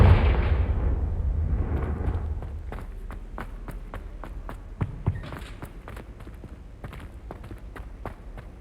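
A Confringo fire spell bursts in the video game Hogwarts Legacy as one loud booming blast that fades over about two seconds, followed by steady rhythmic footsteps and a couple of sharp thuds.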